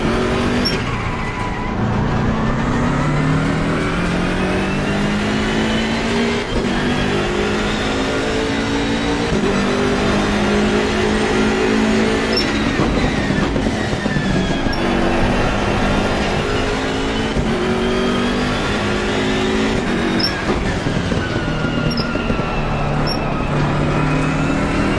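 BMW race car engine in the ACC racing game at the Zolder circuit, a loud continuous howl climbing through the gears with repeated upshifts and lifts for corners, steady and close throughout.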